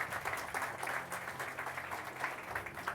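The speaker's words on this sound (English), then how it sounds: "Can we have a bit of a round of applause for Rachel?" A modest patter of audience clapping at the Malta Esports Awards 2024, faint and fairly distant, holding steady for a few seconds.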